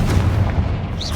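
A fiery blast spell in Hogwarts Legacy lands as a dense, loud low-end boom with a rumbling tail, close and heavy throughout this short burst, with no speech over it.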